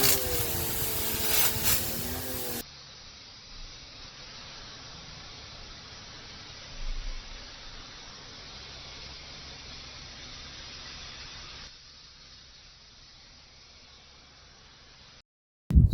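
A small DGIVOVO pressure washer runs and sprays, first a rough mechanical start and then a loud, steady broadband hiss that holds for about twelve seconds before cutting off abruptly.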